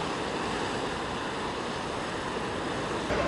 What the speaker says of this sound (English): I love how this water comes in.